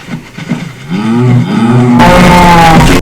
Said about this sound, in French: je suis allé emmener mes vaches vers l'enclos